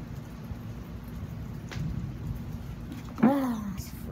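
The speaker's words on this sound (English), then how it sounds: "It's raining. But it's good for the lakes though." Continuous rain hiss fills the background, then a brief warbling voice-like sound rises near the end over the wash of falling rain.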